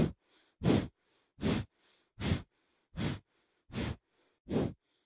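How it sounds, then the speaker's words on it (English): Breath of fire yoga breathing, done during a goddess pose sequence, comes as seven strong, evenly spaced forceful exhalations through the nose, with faint inhales between them in a quiet room. "Breath of fire."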